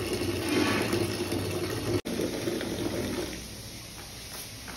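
Continuous running water pours and splashes while towels are set to soak in a home, a steady close wash of sound with a brief break midway, no talking.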